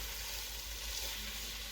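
Real butter melts in a pot on a stove turned down low, giving a steady, continuous sizzle and gentle frying hiss without breaks.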